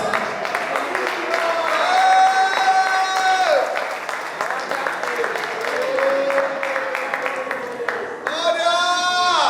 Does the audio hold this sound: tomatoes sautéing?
no